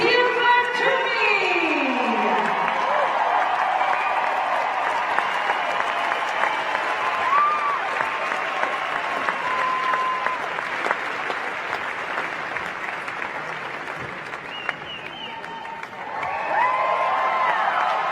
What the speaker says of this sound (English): A big round of applause for your back-to-back champ